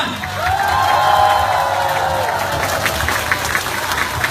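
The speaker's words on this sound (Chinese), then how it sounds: "掌声欢呼，热情不断。" Crowd at a corporate gathering applauding and cheering for the company president taking the stage, a steady dense wash of clapping with scattered whoops, loud and continuous throughout without a break.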